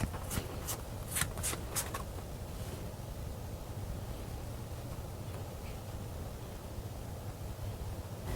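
Tarot cards shuffled by hand, with a few crisp riffling snaps early on and then a soft, steady rustle against a low background hiss.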